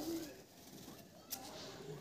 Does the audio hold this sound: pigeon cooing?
yes